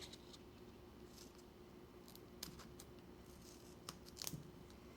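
Scissors cutting card stock for a handmade thank-you card, a few quiet, separate snips and crisp blade clicks spaced apart over soft background hiss.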